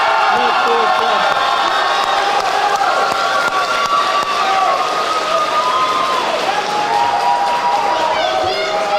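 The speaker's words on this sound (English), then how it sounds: "So join me in giving a big round of applause for the 2022" Crowd at a high school JROTC awards ceremony applauding the 2022 Net Forward Club, a loud, sustained wash of clapping with cheers and whoops running the whole time, voices mixed in.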